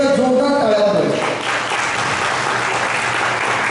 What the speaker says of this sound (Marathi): त्यांच्यासाठी एकदा जोरदार टाळ्या वाजवाव्या